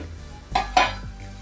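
Chopped chayote tumbles into a pot of Jamaican-style chicken foot soup with two quick clattering thuds of pieces hitting the pot and liquid, close and moderately loud, with no talking.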